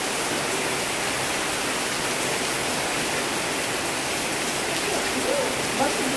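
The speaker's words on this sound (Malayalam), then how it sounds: "ഭയങ്കര കാറ്റും മഴയാണ്." Heavy rain driven by strong wind pours down in a constant, loud, hissing wash with no break, close and enveloping.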